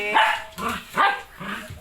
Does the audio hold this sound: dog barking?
yes